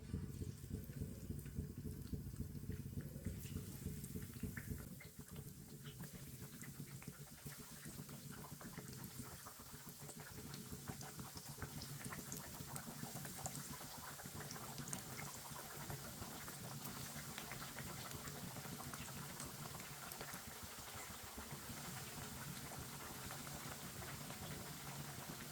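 Raw potato tikki pieces frying in hot oil, a steady low sizzle and bubbling that carries on evenly throughout, faint and alone with no talk.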